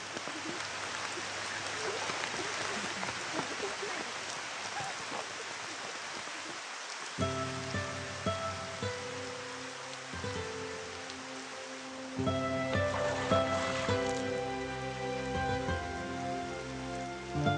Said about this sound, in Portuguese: a chuva diária nas planícies do Amazonas deve soar como um conto de fadas